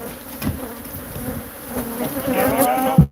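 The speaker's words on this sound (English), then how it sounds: "sometimes I can't read the screen because there's bees all over it" Honey bees buzz loudly and close around a beehive in a continuous droning hum, with a few louder passes near the end.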